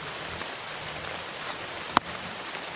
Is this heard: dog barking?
no